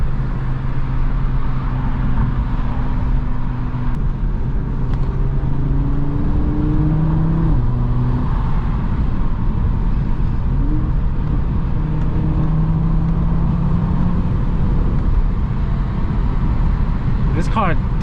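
An Audi RS3 drives along with a steady engine drone and road roar from inside the cabin, with some rising pitch as it accelerates, under continuous talk from the occupants.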